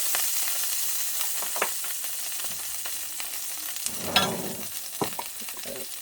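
Pork chops sizzling in a pan for smothered pork chops. A steady frying hiss runs throughout, with scattered pops and crackles and a louder spattering flare near the middle, and no talking.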